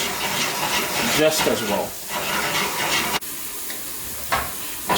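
A hot spice tempering sizzles into a pot of yellow split pea and lentil dhal, a loud hissing rush that swells and fades, with a sharp knock partway through and someone talking over it.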